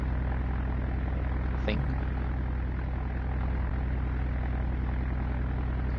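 A C-130 Hercules aircraft in the video game Roblox drones with a steady, loud propeller engine hum throughout, and a voice briefly speaks over it.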